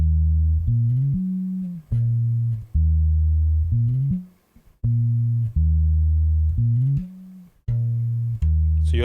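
Electric guitar notes sliding between pitches in a hip hop riff, each note dying away abruptly as the fretting finger lacks pressure; repeated phrases with short gaps, clear and alone without talk.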